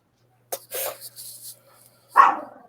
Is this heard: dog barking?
yes